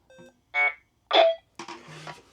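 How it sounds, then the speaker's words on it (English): A phone sounds a series of short electronic alert tones in separate bursts, a couple of clean chimes followed by a buzzier stretch like vibration, close and clear with silence between. "I got an alert notification in my notifications bar and the phone vibrated"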